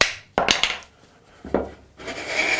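A wooden hand plane takes light smoothing shavings from a board, giving three or four short, bright rasping strokes separated by brief pauses, close and fairly loud.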